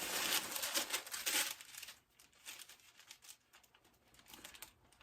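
Fabric being folded and handled during sewing, a close crinkling and rustling that is louder at first, fades, then returns as softer scattered rustles.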